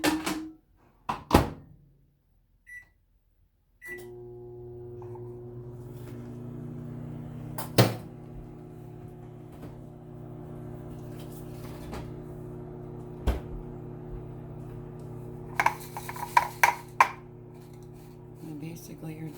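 A microwave oven runs to melt butter, a steady low electrical hum that starts after a few door and handling thunks and continues with occasional clicks, ending in a cluster of sharp beeps and knocks.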